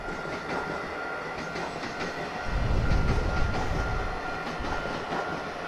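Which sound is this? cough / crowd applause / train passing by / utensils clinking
train passing by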